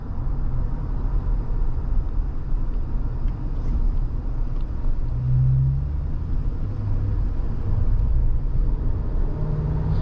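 A 2020 GMC Sierra 1500 SLT pickup drives along, its engine a low steady rumble with road noise inside the cab and a subtle rise and dip in pitch as the transmission shifts.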